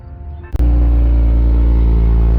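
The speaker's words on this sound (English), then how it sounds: "It's kind of a cold start." A J-swapped Honda Civic cold-starts: a short starter crank, then the engine catches abruptly and settles into a loud, steady, close rumble, with no voices.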